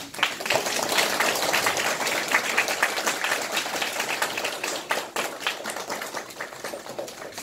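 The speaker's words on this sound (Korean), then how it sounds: "나올 때부터 박수 좀 부탁드리겠습니다" A crowd applauds steadily, many hands clapping in a dense patter that gradually softens toward the end.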